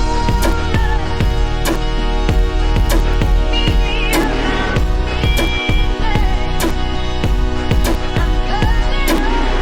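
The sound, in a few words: beat with sampled kick, snare and breath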